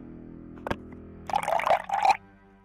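Water sound effects in the video game Insane Cold: Back to the Ice Age, a brief splash followed by a short burst of liquid sloshing and gurgling, fairly quiet and heard without speech.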